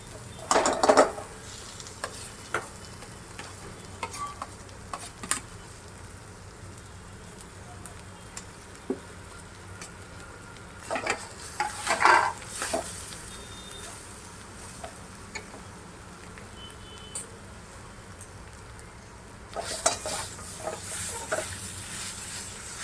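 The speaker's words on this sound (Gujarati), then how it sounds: "હવે આપણે આ બટેકા બાફેલા હતા એ છૂંદો કરી નાખ્યા છે અને હવે આપણે મસાલાની અંદર નાખી દઈશું।" Mashed boiled potatoes are stirred into a sautéed spice mix for vada pav, giving faint sizzling under intermittent spoon scrapes and clinks against the pan in bursts, close by and without speech.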